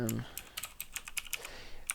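Computer keyboard typing up close, a quick irregular run of sharp key clicks with a brief low voice murmur at the very start.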